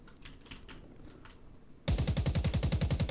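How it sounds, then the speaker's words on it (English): Enemy gunfire in the tactical shooter Ground Branch erupts suddenly after quiet background noise: a loud, close burst of a dozen or so rapid, evenly spaced automatic shots. "They'll keep firing at your last position to stop you from being able to peek out."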